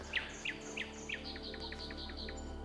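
A nightingale sings outdoors in a rapid series of repeated high chirps, steady and fairly faint against a constant low hum of insects and background noise.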